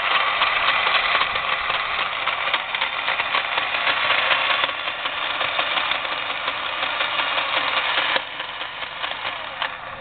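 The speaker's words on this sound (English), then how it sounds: "Very loud noise out of the gearbox. We think that the gearbox might be a little defective." Milwaukee 4208 drill press running at speed with a defective gearbox, giving a loud, steady mechanical whine and grinding roar that holds throughout with a brief shift near the end, no talking.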